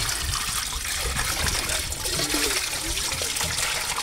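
Water pours steadily over freshly caught fish as it is washed, a continuous close trickling and splashing with no voices.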